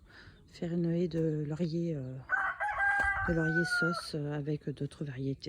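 A rooster crows loudly and clearly in a vegetable garden, one long call under someone speaking French, with hens faintly clucking around him.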